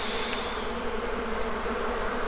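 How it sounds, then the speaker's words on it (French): Bees swarm densely around a beehive, a continuous loud buzzing close to the listener. "Là-haut, c'est noir d'abeilles."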